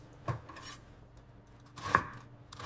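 Vegetables being chopped on a cutting board, with a few separate knife strikes spread across a short, quiet moment. There is no talk.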